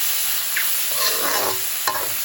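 Tomatoes are stir-fried in a pan with a continuous close sizzle, overlaid by scraping spatula strokes and a single sharp clank near the end.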